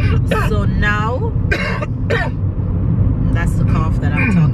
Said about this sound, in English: that's the cough that I'm talking about